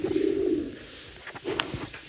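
A racing pigeon, a cross of Olympiade 003 and Olympic Survivor lines, gives a low throaty coo up close, followed by a softer second murmur amid faint background rustle.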